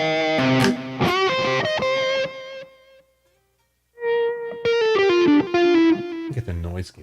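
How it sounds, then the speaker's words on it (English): Electric guitar through a Spark amp, moving from clean to distorted tone: bursts of strummed and picked notes, a chord ringing out and fading to near silence, then a long sustained note and more busy playing, loud and close. "I want to hear both kind of the clean sound of my guitar and the distortion"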